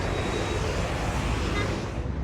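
Steady broadband traffic roar on a Marrakech street with cars waiting, a continuous wash of engine and road noise with no distinct horns or voices standing out.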